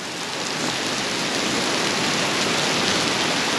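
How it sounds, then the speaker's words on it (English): Heavy rain pours down in a dense, steady hiss of countless drops hitting surfaces, loud and unbroken throughout with no voices. "I'd say it's raining."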